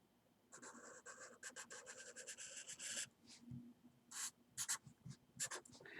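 A tangent line is drawn on a board during a calculus lecture: close, scratchy strokes in short bursts, some quick and some drawn out, with brief pauses between them.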